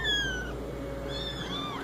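Kittens meow in high, clear, drawn-out cries, a few calls overlapping near the start and again toward the end, close and indoors with no speech.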